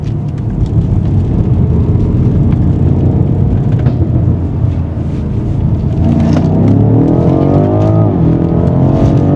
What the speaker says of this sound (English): got an Audi S3 behind me.